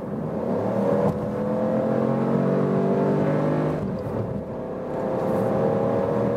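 A facelifted Citroen C4 Cactus with a petrol engine and automatic gearbox accelerates from 60 to 100 km/h, heard from inside as a steady engine hum that rises gradually, with a brief dip during a gear change.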